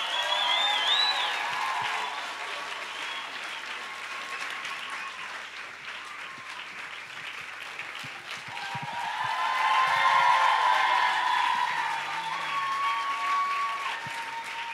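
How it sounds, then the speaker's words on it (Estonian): Sustained audience applause at a Bible days gathering in Estonia, a steady wash of many hands clapping that swells again near the end, with faint voices scattered through it. "Nii et teeme neile suur aplausi!"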